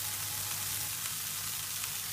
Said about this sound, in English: The veggies are cooking.